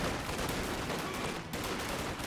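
Dense, continuous gunfire from a Company of Heroes 2 battle, with rapid shots blending into a steady, loud roar of rattling fire and explosions across the whole stretch, no voices.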